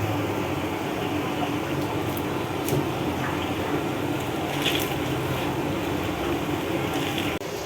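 Pakora batter frying in very hot oil, a dense continuous sizzle and bubbling that holds steady and close throughout, with a few faint crackles and spits and no talking.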